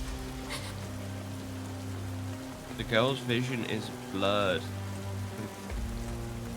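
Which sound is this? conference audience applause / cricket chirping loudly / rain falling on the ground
rain falling on the ground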